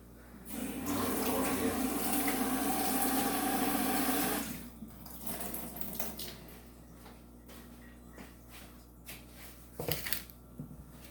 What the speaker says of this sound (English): we're gonna wash the knife off